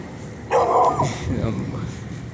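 A single dog barks once, close and fairly loud, with a short yelping quality, over a low background and under faint talk.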